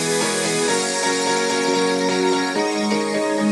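Chords on a Nexus piano preset move through a bright, sustained line with changing notes every fraction of a second, dense and full, played alone without voices.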